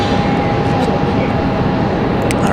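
Beechcraft King Air turboprop coming in to land at Raleigh-Durham International, a broad steady roar with a thin whine, heard from a distance without pause for a couple of seconds.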